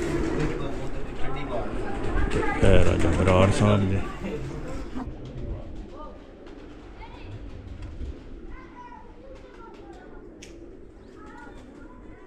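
Pigeons coo at a rooftop loft during an All Punjab pigeon tournament, soft repeated calls mixed with loud crowd noise and someone talking, then fading into quieter background murmur.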